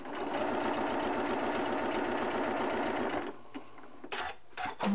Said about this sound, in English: let's sew this one together.